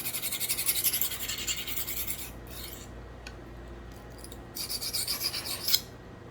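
A Victorinox paring knife's damaged edge rasps back and forth across a coarse sharpening stone in rhythmic strokes, pausing midway before resuming; fairly quiet and close.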